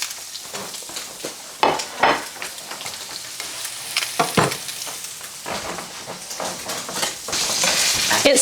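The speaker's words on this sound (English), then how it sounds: "we're cooking this fish entirely on the stovetop" Blackened trout sizzles steadily in a pan on a stovetop, a continuous bright crackle with occasional louder spits and the odd clink of a utensil, growing denser toward the end.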